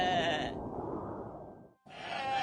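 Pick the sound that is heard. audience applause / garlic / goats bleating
goats bleating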